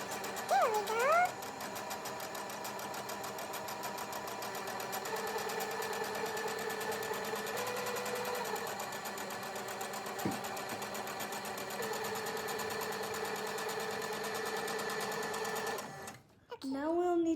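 A sewing machine stitches fabric for a scrunchie, running steadily and close up for about sixteen seconds before stopping, with a brief voice at the start and again near the end.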